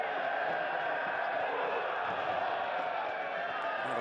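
Stadium crowd at a preseason soccer match between Las Vegas Lights FC and Vancouver Whitecaps FC, a steady broad roar of many voices lasting throughout, with no single cheer standing out.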